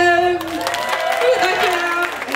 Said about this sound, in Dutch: Nog een applaus voor hem.